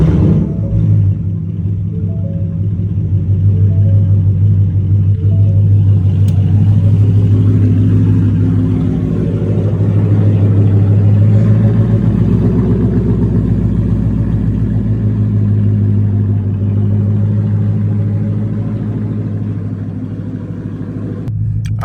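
A tuned Ford Mustang engine fires up for its first start and settles into a loud, continuous low rumble, swelling slightly mid-run before easing off.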